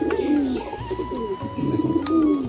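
Madras pigeons kept at home coo nearby in soft, low, repeated rolling calls, several overlapping phrases with faint background noise and no speech.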